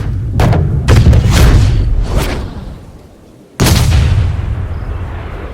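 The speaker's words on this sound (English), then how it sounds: "grab the fire extinguisher, put out that ball is on fire. It's melting going through the air." A flaming golf ball shot in the EA Sports Rory McIlroy PGA Tour video game: several loud booming bursts in quick succession fade into a brief lull, then one more heavy blast rings out and tails off.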